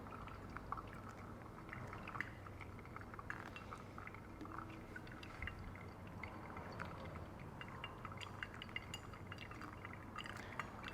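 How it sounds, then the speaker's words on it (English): Water poured gently from a kettle over a coffee bed in a flat-bottom pour-over brewer, a soft, steady trickle with faint glassy clinks, quiet and close. "when I can see the coffee bed through the water, then I pour my next pour"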